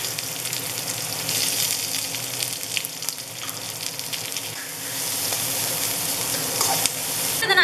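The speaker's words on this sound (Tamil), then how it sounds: "இப்போ நான் வந்து அப்படியே வெங்காயத்தை போட்டுக்கிறேன்." Onions fry with mustard seeds in hot oil, giving a steady, close sizzle with scattered crackles and a brief stir near the end. No one speaks.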